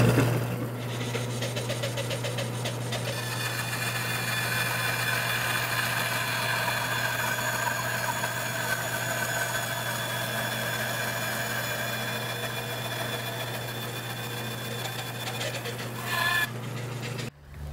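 A bandsaw with its fence set at 3/8 inch cuts a piece off wood for a tenon. Its motor drones steadily and close for about sixteen seconds, then winds down.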